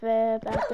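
A dog barks in the Minecraft video game, a steady tonal yelp followed by a rougher bark burst, close and loud, with a voice speaking over the end.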